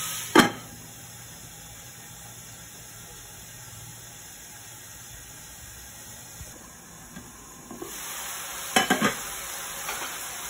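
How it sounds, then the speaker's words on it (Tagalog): Meat sticking in a hot pan gets stirred, with a soft sizzle beneath and a few sharp scraping clatters near the start and toward the end. "Takpan natin ulit and halu-haluin kasi nagdidikit-dikit itong ating karne."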